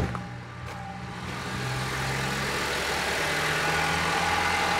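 A Honda Civic engine starts and settles into a steady idle, a low continuous hum that holds evenly to the end.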